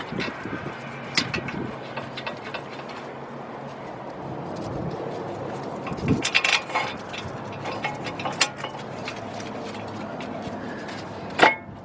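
A brake rotor goes onto the front hub of a 2003 Chevy Trailblazer with scattered metallic clanks, knocks and scrapes over a low hum, ending in one louder clank.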